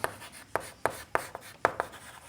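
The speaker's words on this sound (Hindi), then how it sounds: "हम यहाँ लिखेंगे" Pen writing by hand on paper in a math classroom setting, a series of short, crisp scratching strokes in an uneven rhythm, close and clear with no voice over them.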